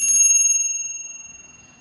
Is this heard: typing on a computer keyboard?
no